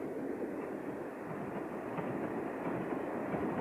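A railway carriage rolls along the rails in rain, giving a steady, dense rumble with faint rhythmic clatter throughout, close and continuous with no voices.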